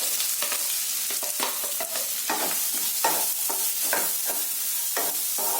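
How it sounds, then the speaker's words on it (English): Grated coconut, garlic and pepper roasting in a pan over a low flame, a continuous dry sizzle broken by repeated scraping stirs at a steady rhythm, close and fairly loud, no voices. "Keep the flame on low and roast it till the coconut is golden brown."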